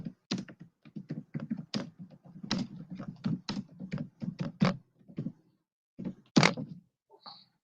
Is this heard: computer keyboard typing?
yes